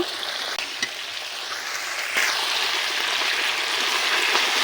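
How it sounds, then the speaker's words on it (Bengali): Spice masala sizzles and fries in hot oil as it is stirred, a steady hissing crackle with a few scraping stir clicks, growing slightly louder about halfway through, close and without any talking. "মশলাটা ভালো কষিয়ে নিব।"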